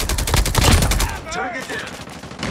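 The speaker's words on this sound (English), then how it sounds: "Sentry gun deployed." An automated sentry gun opens fire in Call of Duty Mobile, Frontline mode on the Summit map, as a dense, loud burst of rapid gunshots that runs unbroken for about a second before easing into quieter game noise.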